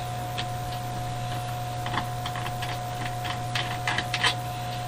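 Keyboard being pried off a Dell Latitude CSx laptop, scattered light plastic clicks and ticks over a steady electrical hum.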